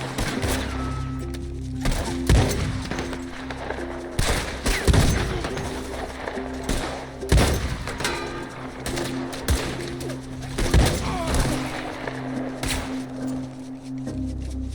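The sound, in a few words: gunshots in the video game Red Dead Redemption 2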